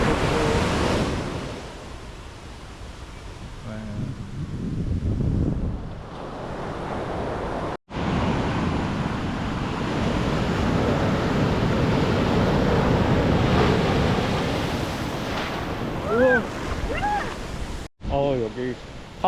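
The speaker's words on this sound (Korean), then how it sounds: "잔잔해 보이는데 파도가 셉니다" Broad, steady surf wash at Kamala Beach, Phuket, with strong waves rolling and breaking, under someone speaking at times, with wind buffeting the microphone.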